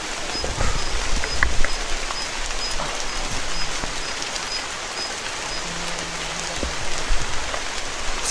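Steady heavy rain pouring down and pattering on surfaces, a dense continuous hiss with no voices.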